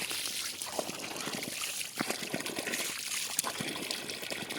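Water poured over someone bathing outdoors in hot sun at a hillside cashew grove: steady splashing and trickling with intermittent sharper splashes, close and continuous, no talk.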